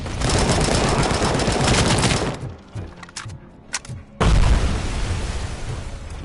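A grenade blast in the RoboCop: Rogue City video game, a dense, loud roar of explosive rumble and gunfire that drops off briefly before a second heavy boom bursts in and carries on.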